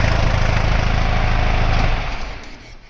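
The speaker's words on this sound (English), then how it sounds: "I'll just turn that engine off a minute." An old, rattly car engine idling with a dense, rough rumble, then switched off so the sound dies away over the last second.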